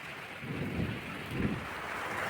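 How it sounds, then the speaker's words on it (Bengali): Early-morning rain under dark clouds falls on a rooftop as a soft, steady patter of drops, fairly faint and distant, with low rumbling swells beneath and no speech. "তো দেখো বৃষ্টি ফোঁটা ফোঁটা পড়ছে এবার, আর মনে হচ্ছে আরও জোরে আসবে"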